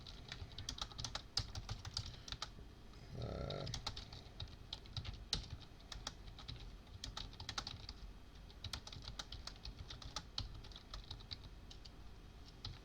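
Fast clattering keystrokes on a computer keyboard while entering text in the VI editor, close and continuous with short pauses, and a brief voice partway through.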